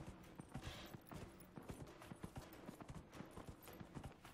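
Horse hooves clip-clopping at a gallop during a horse race in the video game Dragon Age Inquisition, a steady rapid rhythm of thuds heard alone without talk.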